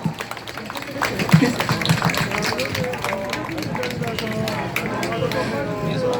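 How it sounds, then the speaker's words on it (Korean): An audience at a Busan mayoral election rally for candidate Park Hyung-joon applauds to welcome guests, a steady rustling wash of many hands clapping at moderate distance, with some voices mixed in. "여러분 따뜻한 박수로 환영해 주시면 감사하겠습니다"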